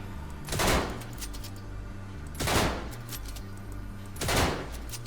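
Three loud, sharp bolt-action rifle shots from the video game Star Citizen, evenly spaced roughly two seconds apart, each a sudden crack with a brief decay over a low mechanical hum, no talking.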